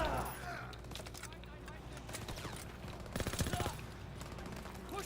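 Bursts of automatic gunfire in a shooter video game, moderately loud with rapid repeated shots and a denser burst midway, while a person talks over the action.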